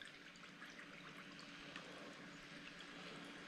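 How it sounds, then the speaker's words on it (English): Water pours steadily from a bottle into a military ration pouch, a soft continuous trickle and gurgle at low level with no talking. "grab our water and pour it in"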